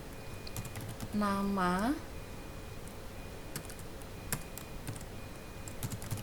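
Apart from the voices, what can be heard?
typing on a computer keyboard, QBasic print command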